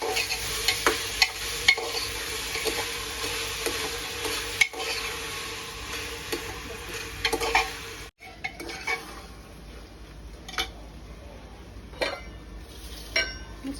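Undhiyu vegetables frying in oil, stirred with a utensil that scrapes and clinks against the pot over a low sizzle, the sizzle quieting partway through while occasional clinks continue.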